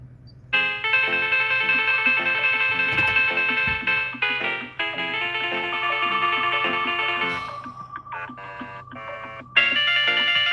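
A phone ringtone for an incoming call plays loudly and close by at a cremation center in a cemetery, a steady melodic tone pattern repeating for about ten seconds with brief breaks.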